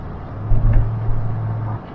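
A steady low engine drone fills the cab of a truck driving along a winter road, with faint road rumble and small bumps. It sounds close and continuous, with no talking.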